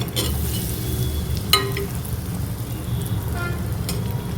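Tapioca bondas fry in hot oil with a continuous close sizzle, broken by a few sharp clinks and scrapes of a utensil, and no one speaking.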